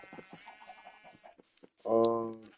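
Rapid, clipped clucks from a Minecraft chicken, followed by a longer, louder drawn-out squawk near the end, close and clear with no talking.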